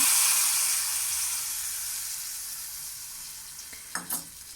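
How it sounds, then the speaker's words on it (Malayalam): Hot tempering of spices in oil poured into a pot of Kerala-style curry, giving a loud broadband sizzle that slowly fades, with a few small clinks near the end and no talking. "അങ്ങനെ കറിയൊക്കെ റെഡിയായപ്പോൾ ഞാനത് താളിച്ചൊഴിക്കുകയാണ്"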